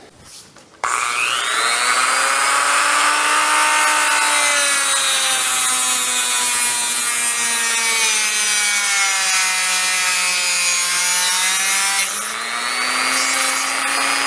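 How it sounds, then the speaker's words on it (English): A Dremel rotary tool grinds the edge of a BNC connector, a loud, close, high-pitched whine that holds steady for about eleven seconds with slight pitch shifts as it bites into the metal, then cuts off. "So I'm going to get my Dremel tool out and get started on that."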